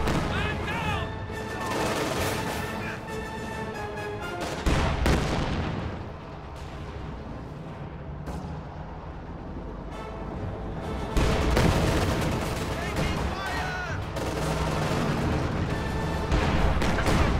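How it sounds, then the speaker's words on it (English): Mortar rounds thump and boom amid a busy video game battle with tanks, repeated heavy blasts and scattered gunfire layered over a steady wash of combat noise. "Mortar is firing away."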